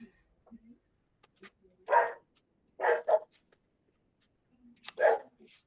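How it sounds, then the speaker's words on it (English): A pet dog barks indoors in three short, moderately loud bursts spaced a second or so apart, with faint yips and whimpers in between and quiet room sound otherwise. "Oh, that's my dog."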